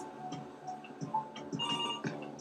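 A phone rings out as Google Duplex places a call to a restaurant, with a repeating electronic ringtone pulsing in short regular bursts, close and fairly clear, and no talking.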